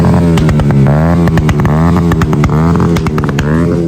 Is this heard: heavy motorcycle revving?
yes